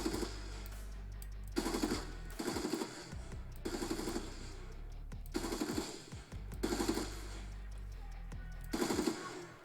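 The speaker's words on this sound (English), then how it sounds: "this is the rifle end firing cue, so it randomizes the sound of the gun ending" A video game rifle fires in repeated bursts of rapid automatic shots, each burst ending with a randomized tail, spaced about every second or two, loud and close with no talk.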